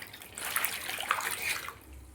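Green chillies are rinsed in water, with close splashing and sloshing that swells and settles over a couple of seconds and no talk.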